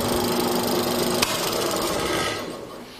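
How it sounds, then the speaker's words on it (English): Drill press running a square-hole mortising auger bit in wood: a steady, loud mechanical whir and grind with one sharp click, then easing down as the machine winds down. "I'm going to test to make sure that the auger is properly centered"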